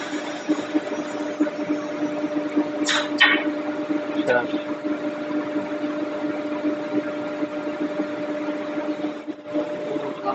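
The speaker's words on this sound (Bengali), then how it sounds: "এটা হচ্ছে নকশা মেশিন। সুন্দর একটা কাজ করতেছে" A wood carving design machine running in a furniture workshop, a steady mechanical hum with sharp brief squeals and clicks, while people talk over it.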